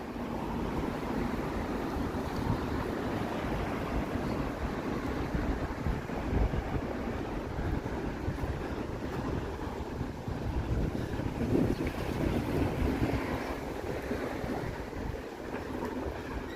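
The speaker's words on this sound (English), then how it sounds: "We're back into the wind zone here." Strong outdoor wind in Toronto on a breezy late-May day, a steady loud roar buffeting the microphone throughout with low rumbling gusts and no speech.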